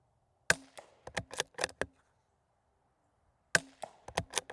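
A rimfire rifle fires at targets in two sharp, close bursts of about five quick shots each, separated by a silent pause, with the first shot of each burst loudest.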